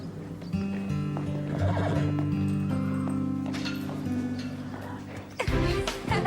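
A ridden horse gives a long, loud whinny up close, followed by a brief burst of hoof clatter at the end.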